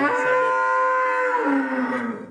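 A freshly calved Haryanvi desi cow gives one long, loud, close moo that holds steady and then slides lower and fades out at the end.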